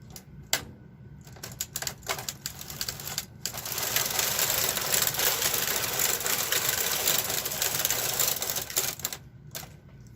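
A bulky-gauge domestic knitting machine, fitted with a punch card, has its carriage pushed across a row. Sharp clicks and clacks lead into a dense, continuous mechanical rattle lasting several seconds, then more scattered clicks at the end.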